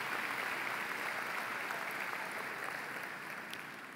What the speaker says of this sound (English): Let's give all of our honored guests a round of applause.